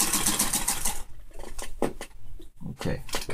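A sewing machine runs in short rapid bursts of needle chatter, stopping and starting in quick spurts, close and fairly loud, in a fashion sewing setting.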